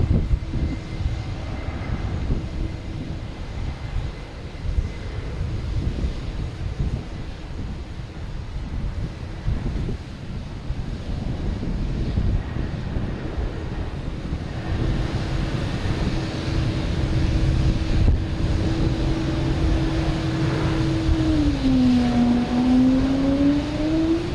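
A Lufthansa airliner at Boston Logan Airport produces a steady engine roar with wind buffeting the microphone, growing louder, and a rising-then-falling whine near the end as it passes.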